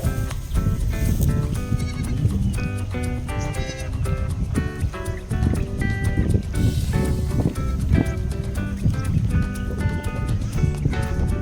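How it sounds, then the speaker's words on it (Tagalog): Pet goats herded on an empty lot, with bleating and restless animal noise running loud and continuous throughout. "pastol muna tayo ng ating mga alagang kambing."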